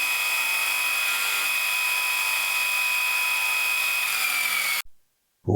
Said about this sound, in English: I've given that a bit of a lick up on the old Abbott Ashby, the old 200mm bench grinder